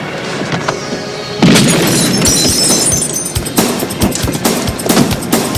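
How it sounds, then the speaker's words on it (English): Loud gunfire erupts after a quieter opening, with a sustained burst of sharp cracks and booms followed by further scattered shots over a noisy, chaotic background. "Shots fired, officer needs help."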